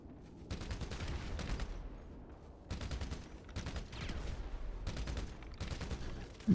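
Rapid bursts of video game gunfire crackle in several volleys with short gaps between them, sounding fairly near and sharp, with no talking over the shots.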